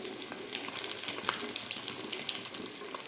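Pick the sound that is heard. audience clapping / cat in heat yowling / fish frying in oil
fish frying in oil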